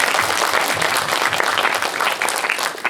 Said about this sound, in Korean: 박수를 한번 드리죠